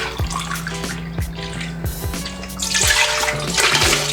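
Vegetable broth is poured from a carton, giving a gurgling, glugging stream of liquid that grows louder and more rushing toward the end, with a few knocks and clunks along the way.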